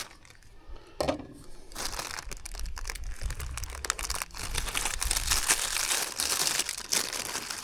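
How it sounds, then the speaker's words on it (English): An old gasket on a Yamaha 25hp outboard motor is torn and pulled away by hand, giving close, steady crinkling and crunching bursts that keep going for several seconds after a short quiet start. "I want to tear that gasket."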